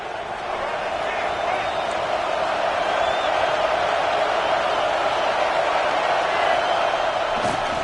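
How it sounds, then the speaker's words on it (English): A packed football stadium crowd at a Florida State versus Florida game roars in a steady, loud, sustained wall of noise, with a commentator's voice talking over it. "with this place rocking, the crowd forces a false start"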